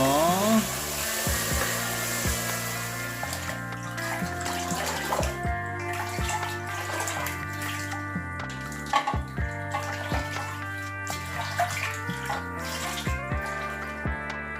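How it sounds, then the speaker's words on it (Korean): Running water rinses a goldfish tank filter under a tap, a steady splashing flow that continues throughout, with a musical background playing beneath it. "이제 여과기도 씻어 주시고요."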